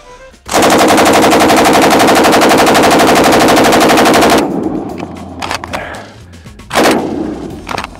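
A fully transferable MG-34 machine gun fires one loud, sustained automatic burst of rapid, even shots lasting about four seconds, followed by quieter handling noises and one more sharp bang.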